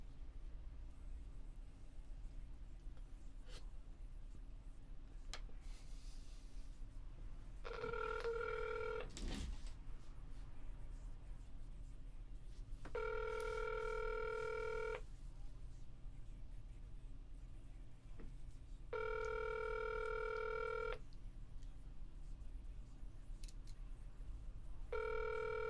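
A telephone call to the Village of Madison, Ohio police department: brief dialing tones, then three evenly spaced ringback bursts with quiet gaps between, clear over a faint background hiss.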